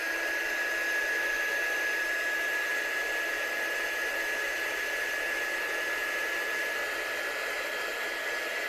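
Steady, loud whooshing blast of a heat tool drying watercolour ink on a handmade card, running continuously without a break and heard alone, with no talk over it.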